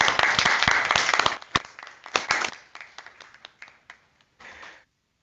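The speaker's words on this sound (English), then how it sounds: "let's give everybody a big round of applause" An audience at a water innovation challenge launch event applauds, dense clapping at first that thins out into scattered claps and then a final short burst before stopping.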